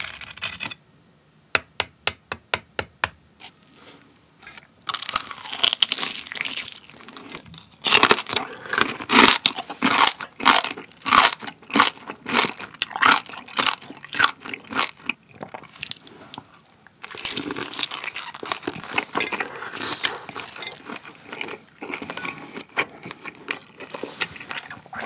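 Crispy pork belly is bitten and chewed close to the mic, with sharp crunchy bites after a few light taps, then a long run of loud, irregular crackling crunches and chewing.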